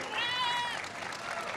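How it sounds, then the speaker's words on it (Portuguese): Applause from a live music show audience greets a bassist as the band is introduced, a short burst of crowd clapping with a high whistle or cheer rising over it early on. "uma salva de palmas para ele"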